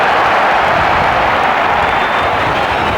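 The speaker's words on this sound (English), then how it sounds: "The crowd begins to roar" Stadium crowd at an Argentina versus Bulgaria football friendly roars steadily, a broad loud wash of many voices and some clapping that holds without a break.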